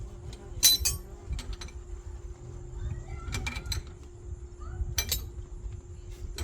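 Metal wrenches clink as they are picked up and tried on a nut of unknown size during a fabrication job, with a few sharp, bright taps scattered over a low background hum and no talking.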